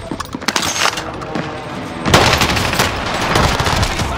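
Video game gunfire: dense rapid bursts of automatic weapon fire, loud and close, intensifying into a sustained fusillade halfway through, with no voices.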